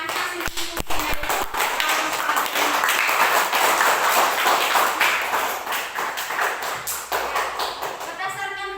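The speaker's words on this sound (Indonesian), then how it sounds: "Jadi, tepuk tangan untuk kita semua karena hasil diskusinya itu" A classroom of pupils clapping together after a group discussion: a few sharp early claps swell into a busy burst of applause, mixed with children's voices and a teacher talking.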